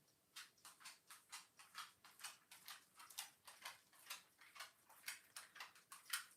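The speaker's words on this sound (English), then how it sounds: "that's my dog's feet you can hear." A dog's feet tap steadily on a hard floor indoors, a rapid regular series of light clicking footfalls, fairly faint and close, with no talk.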